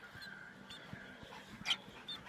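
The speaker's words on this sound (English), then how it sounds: "My dog's going insane in the background." A dog whimpers and yips in the background of a home where a baby bird is being cared for, with faint, intermittent cries and one brief sharper yelp.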